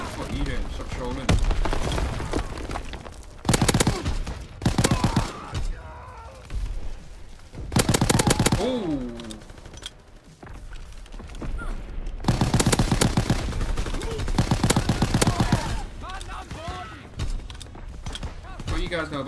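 AVS-36 rifle gunfire in the World War II shooter game Call of Duty WW2, loud rapid bursts of shots repeating in clusters, with voices chatting over the firing.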